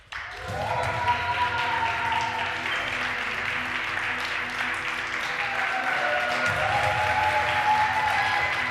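An audience at an offline Age of Empires 2 esports event breaks into sustained applause with cheering, loud and continuous after a brief opening, with an announcer's voice faintly under it.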